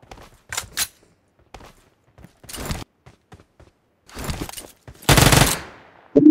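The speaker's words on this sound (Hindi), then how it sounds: "अभी एक फायरिंग कर रहा है, नजर नहीं आ रही है।" Bursts of gunfire in the mobile battle royale game PUBG Mobile, scattered short volleys of shots followed by a loud, sustained stretch of automatic fire near the end, with quiet gaps between.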